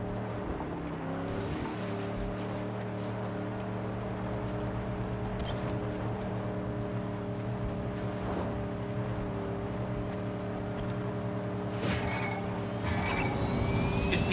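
Car engine in the Mad Max video game, a steady low droning hum with harmonic tones held throughout, moderately quiet, with faint background wind and game ambience.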